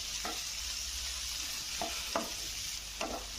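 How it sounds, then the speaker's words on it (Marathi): Tomatoes sauté in oil in a pan with a steady, close sizzling hiss, broken by about four short spatula scrapes and stirs spaced a second or so apart. No voices are heard. "तर आपल्याला हे परतत राहायचं आहे."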